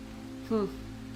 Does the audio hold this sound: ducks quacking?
no